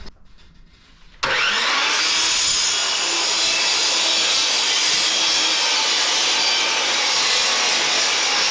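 A power saw trimming a wooden board for a slatted wood wall, starting abruptly after a quiet moment and then running as a loud, steady, close whine through the cut.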